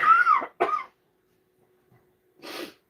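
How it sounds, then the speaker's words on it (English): Coughing in a small homestead kitchen: a harsh two-part cough close by, a short silence, then a single softer cough, with no talking. "They make me want to cough."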